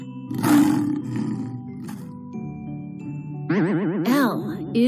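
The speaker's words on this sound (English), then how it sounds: "L is for lion." A lion roars loudly and close, a rough growling roar followed by cartoonish wobbling tonal sound effects in a children's alphabet learning sequence.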